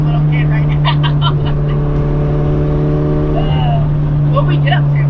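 A racecar engine drones loudly and steadily from inside the cabin during a ride-along, with people talking and laughing over it.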